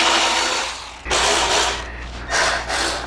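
A power driver whirs in short ratcheting bursts, loud and close, as screws are backed out of a car dashboard vent.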